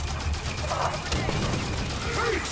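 Halo 5 gunfire against the Warden Eternal, with a rapid fusillade of shots crackling over dense battle noise and a rough, choppy rhythm, fairly loud throughout.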